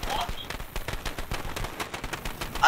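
Rapid gunfire from the zombie shooter game Left 4 Dead 2, a dense run of repeated shots at fairly even pace throughout, loud and close.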